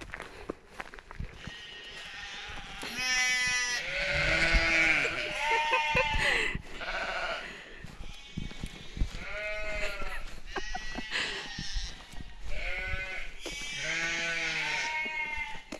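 Sheep bleat repeatedly in a rural Cheshire field, loud and close, their harmonic calls overlapping in waves, while a hiker talks between and over them.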